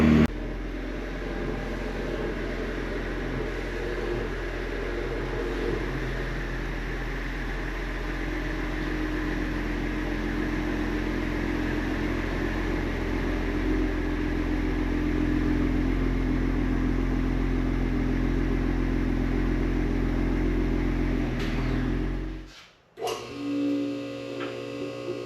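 A Ford Explorer drives along to warm up, a steady low engine and road hum heard from inside the cabin for over twenty seconds, then it drops away into brief clattering near the end.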